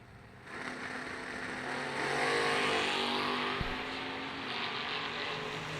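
Chevy S10 pickup and Chevy II drag racing on a strip, a sustained engine roar building in from quiet and holding loud, with a brief sharp knock partway through.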